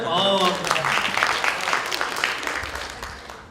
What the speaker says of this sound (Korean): 박수로요.